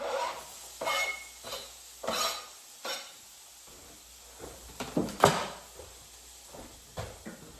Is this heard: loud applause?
no